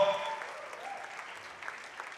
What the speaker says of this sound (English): Give a big round of applause for the fourth guy in the show.